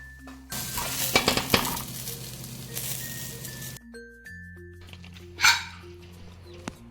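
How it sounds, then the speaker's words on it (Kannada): Onion and other ingredients frying together in coconut oil for mundi palya: a few seconds of loud, bright sizzling with stirring clatter, then quieter pan noise and a sharp clink near the end. "ಇವೆಲ್ಲವನ್ನು ತೆಂಗಿನ ಎಣ್ಣೆಯಲ್ಲಿ ಎಲ್ಲವನ್ನು ಒಟ್ಟಿಗೆ ನಾನು ಫ್ರೈ ಮಾಡ್ತಾ ಇದ್ದೇನೆ"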